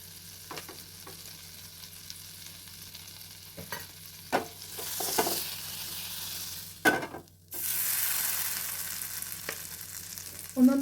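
Marinated tofu pieces sizzle and fry in butter in a pan, with a steady crackling hiss swelling louder as pieces are added, punctuated by a few sharp scrapes and clatters of a utensil against the pan.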